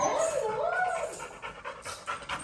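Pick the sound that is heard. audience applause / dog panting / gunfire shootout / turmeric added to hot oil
dog panting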